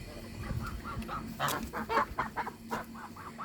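Geese honking and clucking close by in a run of short, repeated calls, some overlapping, with farmyard rustle underneath.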